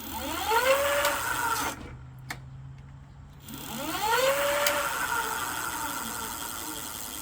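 Lectric XP e-bike wheel spinning with slight brake drag, a motor-like whir rising and falling in pitch with a rhythmic rubbing, stopping briefly in the middle before spinning up again.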